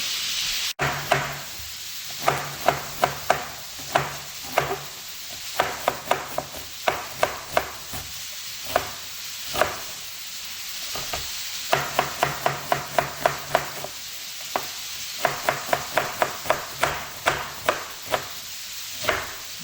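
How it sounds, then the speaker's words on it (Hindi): A knife chops onions on a board for mutton pulao, making a steady run of sharp, close taps in quick irregular bursts that continue throughout with no speech. "मैं जो है वो 3 प्याज ले लूँगा और इनको कट कर लूँगा"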